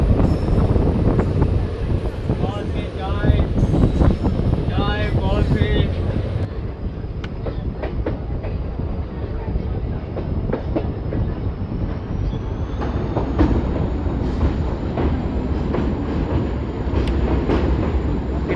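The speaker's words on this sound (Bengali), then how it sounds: "এটা ঘিজ বলে কোনো একটা নদী ট্রেন পার করছে" The Siliguri–Bamanhat InterCity Express rumbles steadily across the Ghish river bridge in the Dooars forest. Heard from on board, the rolling clatter is loud and close, with wind buffeting the microphone and brief indistinct voices early on.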